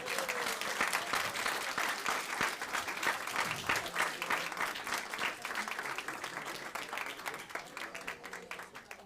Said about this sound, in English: Wow, big round of applause for Professor.